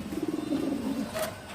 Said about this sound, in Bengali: এই দেখেন খুবই সুন্দর একটা কবুতর